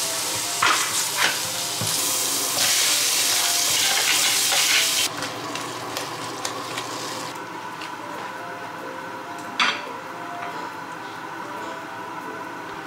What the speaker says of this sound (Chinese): 蒜头爆香